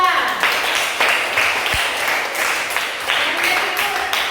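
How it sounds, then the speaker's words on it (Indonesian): A classroom full of people clapping steadily for several seconds for a student group, a fairly loud and dense round of applause with small surges. "tepuk tangan buat kelompok 2"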